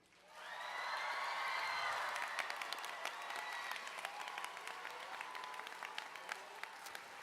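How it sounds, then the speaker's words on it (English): An audience at a student tech challenge awards ceremony breaks into sustained applause, steady and full, with scattered louder claps standing out across the whole stretch. "And now, a really big clap for the screen."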